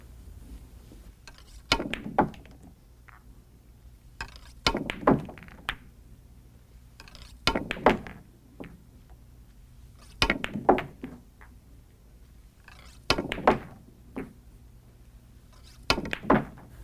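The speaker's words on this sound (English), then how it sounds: "I'm going to roll the balls down the table and try to pocket them in the pocket" Pool balls rolling down a table and dropping into pockets during wing-shot practice, six separate rounds of rolling followed by solid thunks, evenly spaced, close and fairly loud with no talking.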